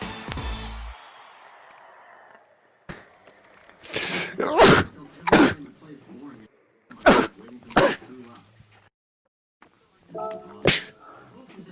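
Several loud, sharp bursts from a person, sneezes mixed with coughs or throat clearing, come in quick clusters with quiet gaps between them, close to the microphone, while a Gran Turismo 7 Ferrari race plays in the background.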